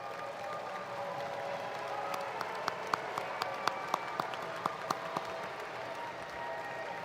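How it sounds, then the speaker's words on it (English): Graduates at a university spring commencement clap for their families, a broad, distant crowd applause filling a large hall, with a few crisp nearby claps punctuating the middle before the sound thins slightly. "give them a big applause for the support you have received"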